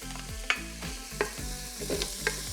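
Onion frying in olive oil in a pan, a steady close sizzle with rhythmic stirring scrapes about every three-quarters of a second, with no talking.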